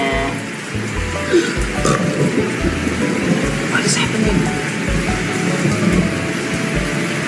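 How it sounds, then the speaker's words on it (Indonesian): Rain falling steadily on a surface, a dense continuous patter with low rumbling beneath, loud and close, while people talk over it. "tiba-tiba ada hujan, ada gerimis"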